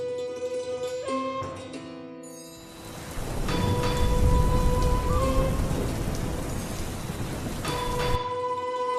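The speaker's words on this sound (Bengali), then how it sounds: "বৃষ্টি তো থামার নামই নিচ্ছে না।" Heavy rain pours in an animated moral cartoon, a dense hiss of drops swelling after a few seconds under sustained bell-like musical tones, with no voices.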